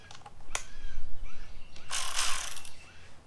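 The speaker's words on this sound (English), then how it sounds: "Craftsman ratchet." Craftsman ratchet loosening 1/2 inch sockets on a reel mower rear drive assembly, a couple of short sharp clicks followed by a brief loud buzzing ratchet burst, close and alone.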